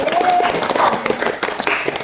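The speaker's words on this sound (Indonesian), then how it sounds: "Tepuk tangan teman-teman." Applause from participants at a group guidance session in a classroom setting, short scattered clapping mixed with voices and a brief whistle-like tone early on.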